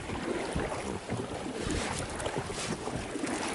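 Strong wind buffets the microphone over a village lake during a disaster-response boat rescue, a constant loud roar with rumbling gusts and no talking.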